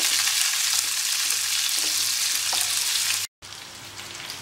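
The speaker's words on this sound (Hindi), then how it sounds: "प्याज को बढ़िया गोल्डन ब्राउन कर लेंगे" Onions fry in hot mustard oil as they turn golden brown, giving a dense, close sizzle with a bright hiss. A spoon scrapes and stirs now and then before a brief cut.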